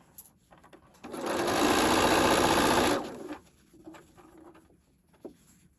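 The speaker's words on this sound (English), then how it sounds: "we're going to stitch around the main pillow" A sewing machine stitches around a main pillow with a zipper flap in one steady burst of about two seconds, then stops and leaves the room quiet.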